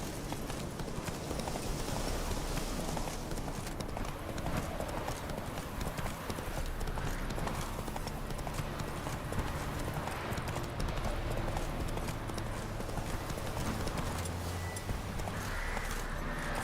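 A horse gallops in the video game The Witcher 3: Wild Hunt. Rapid, continuous clip-clop hoofbeats run steadily throughout over a dense in-game ambient background.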